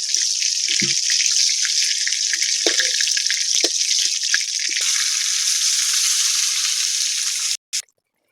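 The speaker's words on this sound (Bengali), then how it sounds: "তেল গরম হয়ে গেছে, মাছটা ভেজে নেব।" Small chela fish fry in hot oil, a steady bright crackling sizzle held close up for about seven seconds with light knocks of a utensil, then stopping abruptly.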